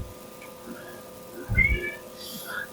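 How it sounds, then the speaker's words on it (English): A house cat that wants to be let in or out gives one short, faint meow in a home kitchen during cooking, with quiet background noise. "One of the cats, she wants in, she wants out."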